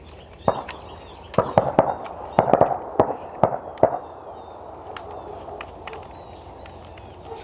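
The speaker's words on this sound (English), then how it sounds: "Somebody shot something." Outdoors at a self-built home site, a cluster of sharp cracks sounds at a distance, some close together and echoing, then fades into quiet ambient background.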